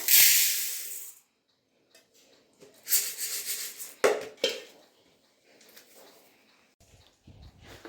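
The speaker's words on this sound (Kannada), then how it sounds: "ಇವಾಗ ಉದ್ದಿನ ಬೇಳೆ ಹಾಕ್ತಾ ಇದ್ದೀನಿ ನೋಡಿ." Dry urad dal lentils pour into a metal pot in a few rattling bursts, with short pauses between each pour.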